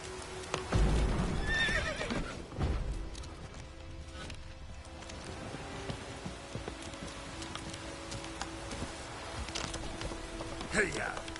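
Roach the horse in The Witcher 3 gives a sharp whinny early on and another near the end, with clip-clopping hooves and a soft rain-like patter throughout.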